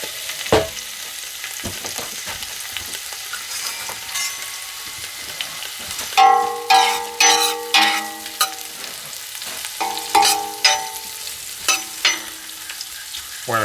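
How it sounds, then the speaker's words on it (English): Sausage frying in olive oil in a large pot, with a steady sizzle throughout and a run of louder clinks and scrapes from stirring in the second half. "Now that oil's heated up, we're going to cook our sausage."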